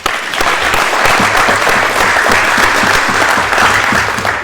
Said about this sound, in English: another round of applause, please, for those shooters